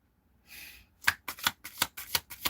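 Tarot cards are shuffled by hand: a brief soft riffle, then a quick, close run of about seven crisp snapping bursts in a steady rhythm, with no talking.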